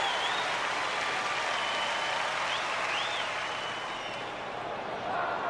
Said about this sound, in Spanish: El público aplaude.